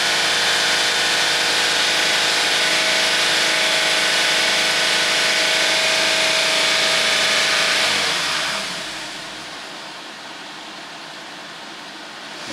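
A 2005 Honda CR-V engine with a VTEC fault code P2646 is held at a steady 3000 RPM, a loud, constant hum that drops off as the revs fall near the end.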